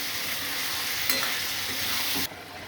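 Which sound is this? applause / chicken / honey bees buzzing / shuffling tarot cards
chicken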